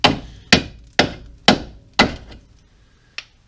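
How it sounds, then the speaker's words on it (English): Small hammer punching through a rusted steel control arm on a Subaru Forester, five sharp metallic strikes about half a second apart with short ringing decay, then a lighter sixth tap after a pause, close and alone. "I ended up taking my little hammer and I just punched the hole right through that control arm"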